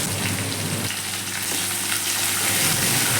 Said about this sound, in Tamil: நல்லா பொன்னிறம் ஆகுற வரைக்கும் வதக்கணும்.